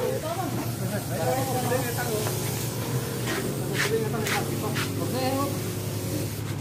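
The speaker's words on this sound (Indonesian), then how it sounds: "Ini akan nyemprot desinfektan di RT 1 RW 5 Desa Doko, Kecamatan Doko." A sprayer pumps disinfectant during a village sanitation round in Indonesia, giving a continuous hiss under a steady mechanical drone while people talk nearby.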